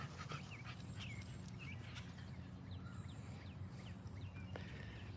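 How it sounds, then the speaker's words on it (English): A French bulldog pants steadily and quickly nearby at a dog park, its breathing soft and close, with faint birdsong and outdoor ambience behind it. "is that a French bulldog?"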